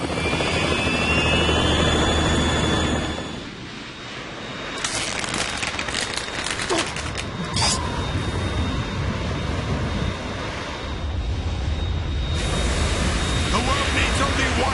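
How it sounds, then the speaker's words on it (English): Harrier jet in the Metal Gear Solid 2 video game, a loud roaring engine wash with a steady airy rumble that dips briefly, then swells again, mixed with game effects throughout. "It's the Harrier."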